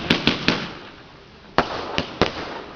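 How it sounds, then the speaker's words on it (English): Old firework bangers go off outdoors on Bonfire Night, six sharp cracks in two bursts, three quick reports and then, after a second's pause, three more, each loud and close with a brief echoing tail. "I've still got some old bangers sitting in here"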